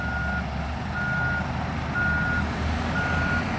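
A reversing excavator or truck sounds its backup alarm: evenly spaced beeps, four in a row, ring out over a steady low diesel engine rumble with no talking.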